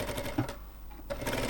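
A sewing machine stitches slippery velvet fabric for a blouse with tucks. Two short bursts of close, rapid stitching are split by a brief pause.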